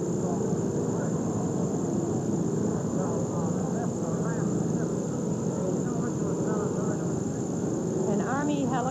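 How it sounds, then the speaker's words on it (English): An Army helicopter that has just landed near a Washington honor guard sends out a steady, loud rotor and turbine roar, continuous and close, with a person talking over it throughout. "An Army helicopter has just landed, making a great deal of noise."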